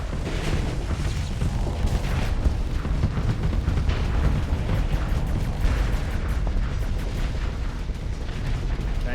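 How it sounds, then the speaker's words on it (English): A dense missile barrage pounds away in the space combat of Starsector, overlapping heavy explosions and booms rolling almost continuously, loud and close, with no talk over them. "Good missile barrage"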